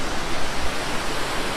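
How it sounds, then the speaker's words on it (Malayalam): A waterfall on the trek up to Tiger's Nest in Bhutan gives a loud, steady, close rush of broadband water noise with no break and no voices. "മുകളിലോട്ട് പോകും വഴി നൈസൊരു വെള്ളച്ചാട്ടം"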